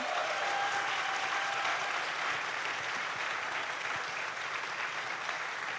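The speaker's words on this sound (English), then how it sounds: "That's worth an applause." Audience applause at a charity awards event, an even, moderately loud stretch of many hands clapping that holds steady throughout and slowly thins a little toward the end, with no speech.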